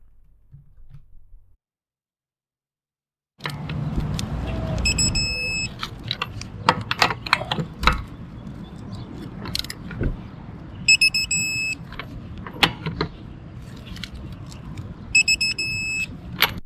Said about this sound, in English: when you hit it or over it, then you hear a continuous beep